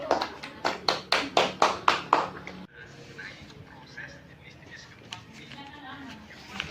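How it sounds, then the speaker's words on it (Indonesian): Students in a class clap together in a series of about eight loud, evenly spaced claps, followed by quieter room noise and children's voices. "Tepuk tangan untuk kalian."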